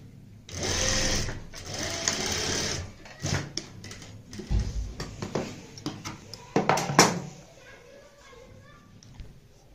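A sewing machine stitches a halter neck in short whirring bursts close by, broken by handling clatter and pauses, while a person talks throughout.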